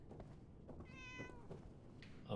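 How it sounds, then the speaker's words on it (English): A cat meows once in the video game Fallout 76, a clear, faint-to-moderate tonal call over a low ambient game background, with no talking. "Oh, hey, kitten."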